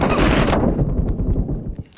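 Gunfire in a video game gun-game match, with a dense, loud burst of rapid shots at the start, then scattered echoing reports and clatter.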